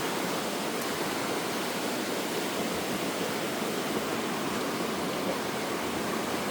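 Steady rushing flow of the Penobscot River in Maine, a broad continuous wash of water noise that holds an even level throughout with no voices over it.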